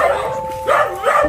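A dog barking and yelping close by, a few short high barks in quick succession, loud against a quiet background.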